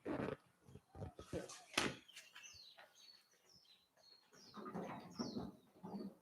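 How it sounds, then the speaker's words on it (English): Faint bird chirps and tweets come and go in short calls, mixed with nearby rustling and clattering sounds. "we hear birds on the roof and roosters in the neighborhood"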